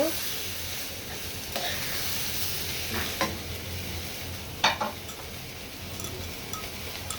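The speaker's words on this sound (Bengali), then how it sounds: "পেঁয়াজ আর বাদাম বাটা। আবার একটু নেড়ে চেড়ে দিব।" Onion and nut paste frying in a pan as it gets stirred, giving a steady sizzle with occasional scrapes and clinks of the utensil against the pan.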